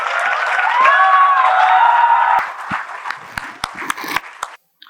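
Audience at a student hackathon session applauds and cheers a speaker, loud sustained clapping with raised voices that quickly thins to a few scattered claps and stops.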